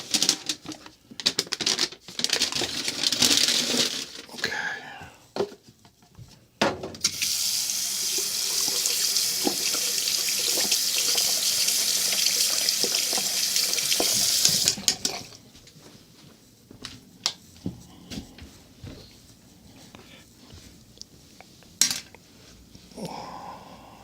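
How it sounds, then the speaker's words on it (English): A paint brush is rinsed under running tap water, a steady hissing stream lasting several seconds between bursts of splashing and rattling in a sink, with no talking. "I gotta wash the brush."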